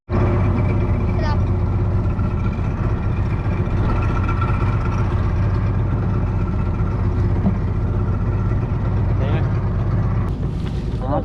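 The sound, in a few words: boat engine running after being started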